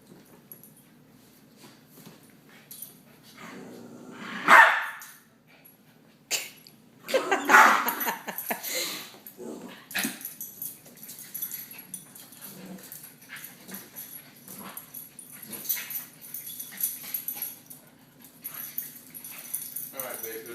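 Dogs at home bark and whimper in short bursts, with two louder yelps standing out early, while a person talks to them throughout.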